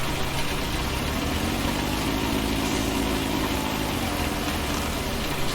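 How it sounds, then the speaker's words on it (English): Simulated David Brown 990 tractor engine in a farming video game, a steady continuous idle-like drone held at even loudness throughout with no talk over it. "get that tractor into there."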